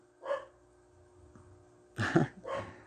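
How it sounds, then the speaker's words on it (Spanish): A dog barks in two short bursts, one single bark then a louder double bark about two seconds later, fairly close with quiet between; no talking. "este perro tenía que empezar a hablar, a ladrar"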